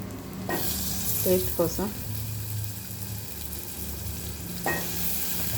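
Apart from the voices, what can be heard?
green chilies frying in oil with mustard seeds and onion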